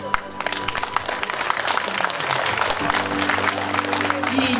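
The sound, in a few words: audience applause at a folk festival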